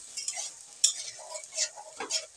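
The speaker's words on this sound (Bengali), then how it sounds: "একটা টমেটো দিয়ে দিলাম, একটু ভালো করে কষে নেবো, দেখতে থাকো।" Tomato and spices stir-fried in a pan, quiet scraping spatula strokes and light sizzle in short irregular bursts, close by, with a few small clinks.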